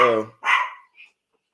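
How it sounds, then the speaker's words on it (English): A dog barks in a shop-like setting: a short bark follows a brief voiced sound, then a faint yip trails off, all close by and ending in silence. "But you hear a dog, right?"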